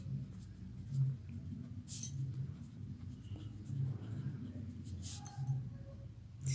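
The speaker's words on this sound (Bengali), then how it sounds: "তো আমি লিখে দিচ্ছি" Handwriting on paper while working a physics equation: faint pen scratches and strokes recurring across the clip beneath a low background hum.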